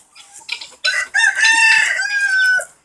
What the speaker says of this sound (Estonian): See on meie siidikukk